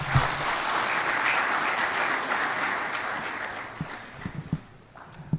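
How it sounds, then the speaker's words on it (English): An audience at a national economic recovery plan consultative workshop applauds a professor, a full room of steady clapping that fades into scattered claps and a few thumps near the end. "Let's give him another round of applause"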